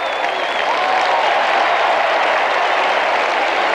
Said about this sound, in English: the Geelong fans have something to applaud